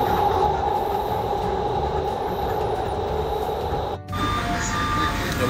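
A train at a station on the Doha metro line toward Al Aziziya gives a steady, loud rolling rumble with a faint hum, cut short by a brief break before it resumes.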